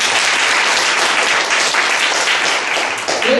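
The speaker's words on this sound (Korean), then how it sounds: "이때 박수 한번 쳐주는 거예요" A large seated audience at a lecture forum claps continuously in steady, dense applause that stays loud and even for the whole stretch, with no voices over it.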